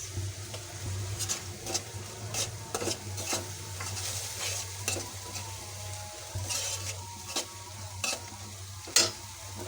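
Spices such as turmeric, coriander powder, dried chili and green chili are stirred and sautéed in a pan for pabda fish curry, giving soft sizzling with repeated scraping stirs, close and fairly quiet.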